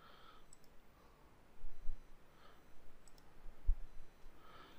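A computer mouse gives a few faint, sparse clicks in a quiet room, isolated taps spaced a second or two apart with no talking.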